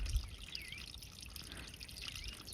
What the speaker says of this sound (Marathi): तेव्हा तिथनं पाणी येते या त्याला. बघा कसं पाणी येते.